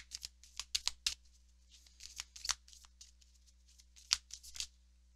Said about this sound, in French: On va aller chercher 2 autres cartes pour vous.